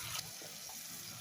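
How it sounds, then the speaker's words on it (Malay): Dried chilli peppers rinsed under a running tap in a kitchen sink, a steady splashing stream of water with a brief louder gush at the start, close by and without speech. "cuci lada sambil buang bijinya"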